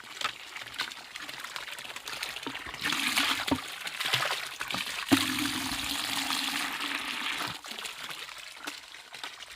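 Water is poured out at a waterside fishing spot in the Sundarbans forest, giving a close, uneven run of trickling and splashing pours with brief pauses.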